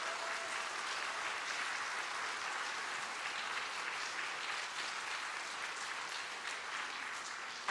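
A church congregation applauds to welcome a newly ordained pastor at a Wednesday evening service, a dense, steady clapping that fills the room evenly for several seconds.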